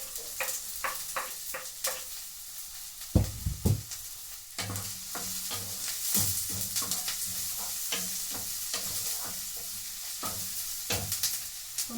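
Onions fry in a small amount of hot oil, a steady sizzle broken by repeated scraping clicks of a spatula stirring against the pan, with a few louder knocks.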